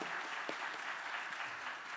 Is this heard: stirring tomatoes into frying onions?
no